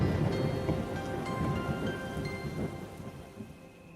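Heavy rain pours steadily with rolls of thunder rumbling through it, a dense, loud wash of downpour with no voices.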